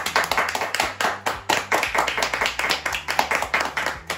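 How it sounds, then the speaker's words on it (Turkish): Several people clap together at a brisk, steady rhythm, each slap sharp and close, with no talking. "Takipçiye bir alkış."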